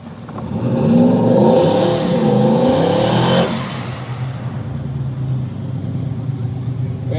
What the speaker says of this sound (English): Vanderpool's Camaro didn't want to do much of a burnout